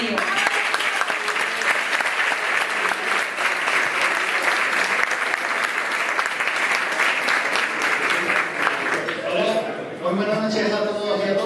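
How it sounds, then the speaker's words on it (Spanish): Audience applause for Emilio at a foundation event on a Spanish evening programme, loud, dense and steady for about nine seconds before tapering off as a voice begins to speak. "un fuerte aplauso para Emilio"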